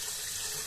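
Tap water pours steadily into a pot, a continuous close, bright hiss of running water with no pauses.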